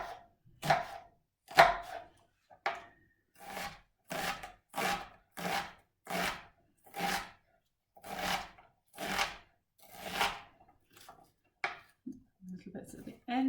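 A knife slices an onion into thin pieces on a board: about a dozen evenly spaced, crisp chopping strokes in a steady rhythm, close and distinct, tapering into smaller, irregular cuts at the end.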